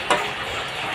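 Jute leaves (pat shak) with green chilies frying in a pan as they are stirred, a steady close sizzle with one brief scrape near the start and no talking.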